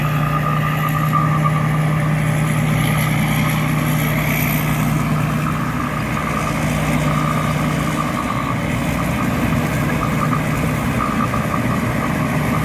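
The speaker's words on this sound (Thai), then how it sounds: "ครับเสียงเครื่องยนต์" An excavator's heavy diesel engine runs steadily and close by, a continuous low rumble with a faint higher whine drifting over it, no talking.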